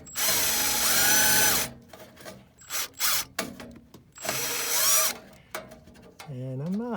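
A power drill drives long zip screws into the sheet-metal cabinet of an ICP Comfortmaker gas furnace under repair, with loud whining bursts of a few seconds, short trigger blips between them, and some talk.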